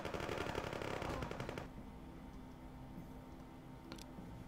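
Rapid machine-gun fire in the video game Cuban Missile Crisis: Ice Crusade rattles in a loud, dense burst for about a second and a half, then cuts off, leaving a low background hum with a faint click near the end.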